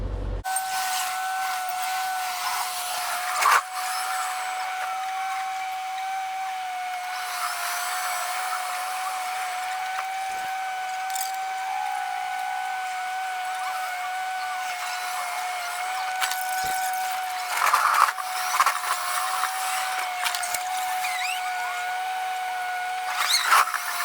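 Steady rumbling hum inside a moving Melbourne tram, with a sustained whine and a few soft clunks and rattles along the way, continuous and moderately loud with no talking.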